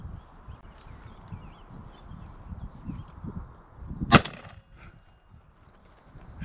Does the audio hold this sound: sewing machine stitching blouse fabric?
no